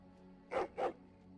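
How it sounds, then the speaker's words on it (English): Two loud, sharp dog barks in quick succession, close and fierce, from a dog in the fantasy role-playing game Dragon Age: Origins, over a low steady hum. "He barks fiercely and lunges at Sten."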